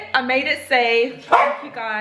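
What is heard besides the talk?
dog barking in the back of a car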